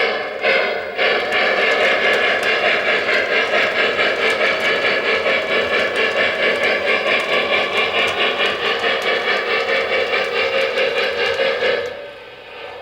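A continuous mechanical engine rumble with a rhythmic chugging pulse from a Lionel model steam locomotive's sound effects runs steadily for several seconds, then cuts off abruptly near the end.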